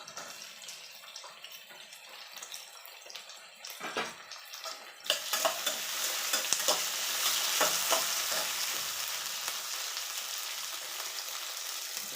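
Tomato dropped into a hot frying pan of onions, bursting into loud sizzling frying with scraping stirring that swells midway and holds steady, close and without talk.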